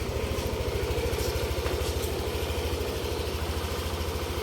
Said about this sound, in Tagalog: Parang brand new ulit yung tunog ng ating NMAX